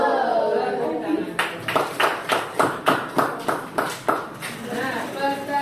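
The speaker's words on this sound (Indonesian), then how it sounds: "Tepuk tangan." Classroom of students clapping in unison for a group, a steady run of about ten sharp, evenly spaced claps that rises out of murmuring voices and fades back into talk.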